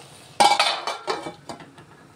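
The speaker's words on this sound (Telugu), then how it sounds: "మూత పెట్టేసుకుందాం" A lid goes onto a cooking pan of soya chunk and potato curry, a sharp metallic clank followed by a few lighter rattling clinks as it settles.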